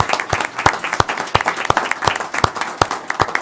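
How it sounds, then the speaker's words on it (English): Parents at a Board of Education meeting give a round of applause; claps come through sharp and fairly close, some standing out individually in an uneven rhythm over a softer wash of clapping. "parents, give yourselves a round of applause"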